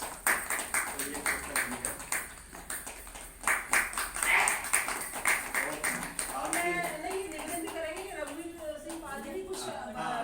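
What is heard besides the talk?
audience clapping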